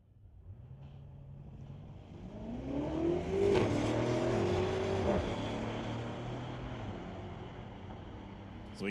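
Sport compact street cars launching down a drag strip, an engine rising and revving hard as one car passes close, then fading into the distance amid wind noise.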